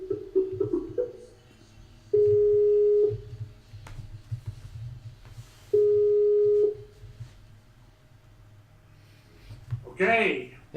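Two steady telephone ringback tones over a phone line, each lasting about a second, spaced a few seconds apart and loud, with muffled background talk and a brief burst of noise at the end.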